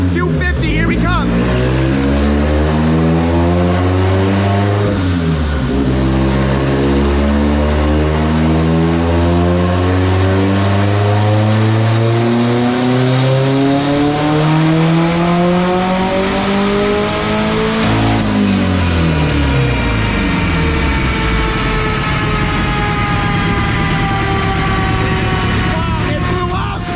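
A turbocharged Honda Civic engine revs hard on a dyno, rising and falling through long loud pulls with a rough break near the end as it fails, continuous and close.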